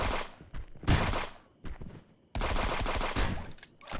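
Quiet bursts of double-barreled shotgun blasts in the video game Frens vs Frens, several separate shots with brief gaps between them, fairly distant and soft in the mix.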